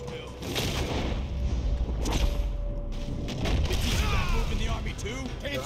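Gunshots ring out in a Red Dead Redemption 2 shootout, a few sharp cracks and booms over a busy ambient background while voices talk.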